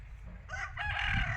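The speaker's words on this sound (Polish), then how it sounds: "A gdzieś tam na pewno jakaś kura jeszcze chodzi, bo słyszę ją." A chicken on a Polish countryside farm gives a short, fairly close series of clucking calls, alone and without talk.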